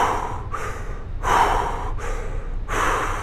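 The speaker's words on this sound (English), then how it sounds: "just in through the mouth, out through the mouth," Three deep breaths in and out through the mouth during a breathing exercise, each a loud, airy rush lasting about a second, separated by brief pauses, with no talking.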